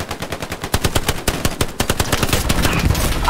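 Rapid gunfire rattles in the World War II shooter Hell Let Loose, loud close bursts of automatic shots in quick even rhythm, running nearly unbroken with no talk over it.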